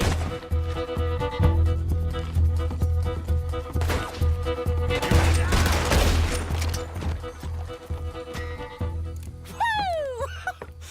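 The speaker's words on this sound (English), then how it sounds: "He's going for the Gatling." A Gatling gun fires in the Red Dead Redemption 2 western video game: loud rattling bursts of rapid gunfire, heaviest in the middle, over game music and scattered shots and impacts.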